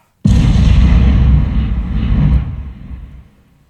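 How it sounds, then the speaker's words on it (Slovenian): A loud explosion sound effect in a Slovenian audio drama bursts in suddenly, holds as a heavy booming roar for about two seconds, then rumbles and fades away with no voices over it. "Strašna eksplozija je uničila vse udeležence toplega zbora."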